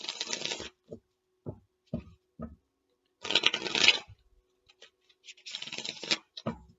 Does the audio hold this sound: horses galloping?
no